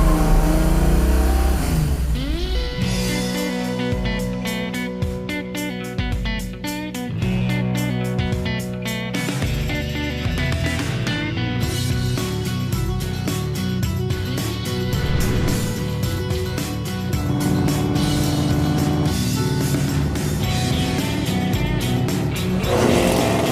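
Ford Mustang project car with a large radiator and fan, driven hard along twisty Mulholland road, engine revving loud and continuous with rising and falling acceleration and brief tire squeal, no talking.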